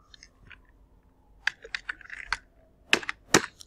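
Keys clatter on a computer keyboard in short bursts of close, crisp taps, sparse at first and then quicker and louder, with pauses between groups.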